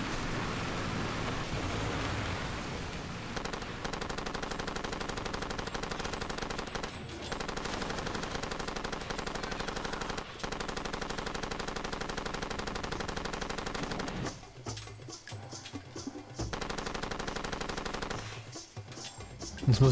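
Sustained gunfire rattles continuously in Far Cry 2 while shooting at a moving convoy, a steady loud stream of shots that breaks off briefly twice near the end.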